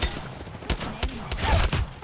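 Rapid bursts of automatic gunfire from a weapon in the shooter game Apex Legends, several quick volleys close and loud, with a voice talking faintly underneath.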